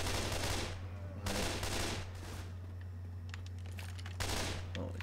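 Gunfire in the Left 4 Dead 2 zombie game on Xbox One comes in several loud, hissing bursts of rapid shots. Between the bursts there are quieter clicks and a steady low game hum.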